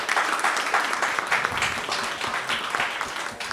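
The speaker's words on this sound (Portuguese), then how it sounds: "Uma salva de palmas para vocês." Creditors at an in-person creditors' assembly applaud, a dense, continuous burst of many hands clapping at a full, steady level, with faint murmuring underneath.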